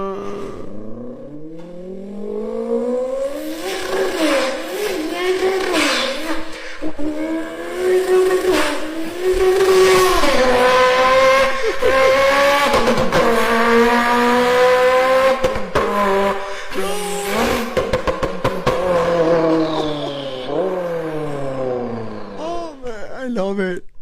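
A voice mimics a sports car engine with a turbo, rising and falling through gear-change revs with whooshing spool and blow-off hisses. The imitation runs loud and continuous from start to finish.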